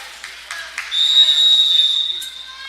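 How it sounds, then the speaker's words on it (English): A referee's whistle blows at a high-school league tournament basketball game, a sustained, fairly loud tone lasting about a second over crowd noise and a few scattered bounces. "We have a whistle called, looks like just a sub."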